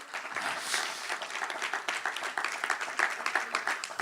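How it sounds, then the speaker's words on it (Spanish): A church congregation breaks into steady, dense applause during a sermon, many hands clapping together at moderate volume for a few seconds, with no talk over it. "Denle un aplauso a Cristo."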